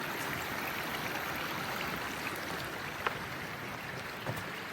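Mill Creek flows nearby in a steady, broadband rush of water that stays even throughout, with occasional small splashes rising briefly above the continuous wash.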